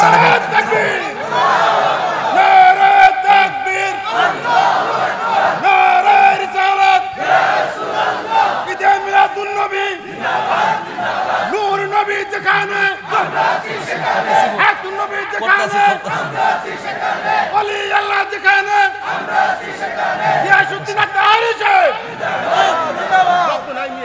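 A huge crowd gathered in an open field in Sarail for a religious gathering roars out a slogan together in loud, repeated waves of massed shouting, with a voice rising over it at times.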